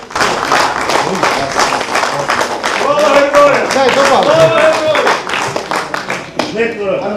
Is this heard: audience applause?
yes